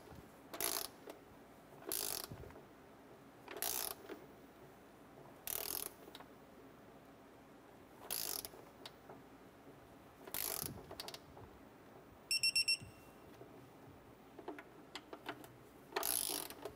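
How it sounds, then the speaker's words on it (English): A ratchet torques the intake manifold bolts on a 2008-2012 Honda Accord. About eight short, crisp bursts of rapid clicking are separated by quiet pauses, close and clear with no talking. "torque down our intake manifold bolts to 16 foot-pounds"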